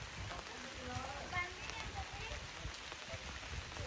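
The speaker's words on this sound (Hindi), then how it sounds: "बारिश के मजे लेने के लिए बाहर जा रहे हैं" Rain falls outdoors near a pond as a steady, soft patter and hiss across the whole stretch, fairly faint, with a few faint tonal sounds and bits of distant voice mixed in.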